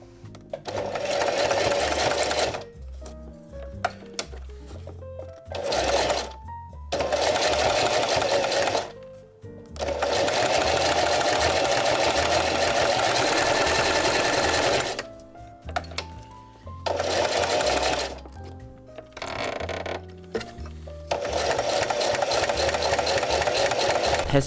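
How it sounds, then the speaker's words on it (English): A sewing machine stitches leather in long steady whirring runs, stopping and restarting several times with short pauses between bursts, close and loud. "here is me doing something that I've never done with leather before, using a sewing machine."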